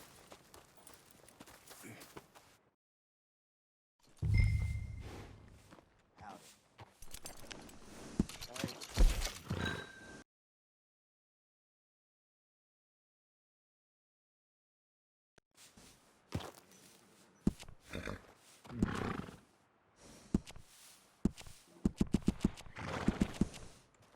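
A horse in Red Dead Redemption 2 clip-clops along at a walk and gives a neigh, with bursts of hoofbeats split by two stretches of silence and some game dialogue.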